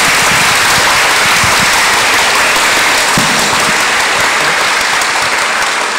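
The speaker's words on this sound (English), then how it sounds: "Let's give another round of applause to our speaker." Forum audience in a hall applauding the speaker, loud continuous close-up clapping from many hands that carries steadily to the end.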